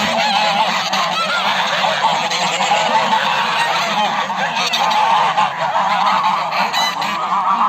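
A flock of domestic geese, a pair with three young, honking loudly and continuously at close range, overlapping calls with no talk.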